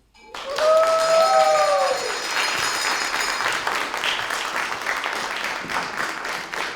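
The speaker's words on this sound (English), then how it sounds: "Y'all clap for Virginia and John Duty Collins and Walter Dudley Calvert." An audience at a storytelling slam festival breaks into sustained applause after a brief whistled note, the clapping dense and steady, filling the room for several seconds before slowly thinning.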